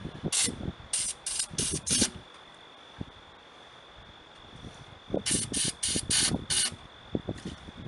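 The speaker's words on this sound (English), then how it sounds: "You can squirt off the intake runners if you like to." An aerosol cleaner is sprayed onto the intake runners of a 1998–2007 Honda J-series 3.0-litre V6 VTEC engine. Two clusters of about five short, sharp hissing squirts are separated by a quiet pause.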